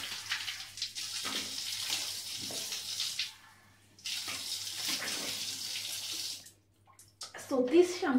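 Water is poured over long curly natural hair during washing, splashing and running in steady pours broken by short pauses, with someone talking faintly underneath.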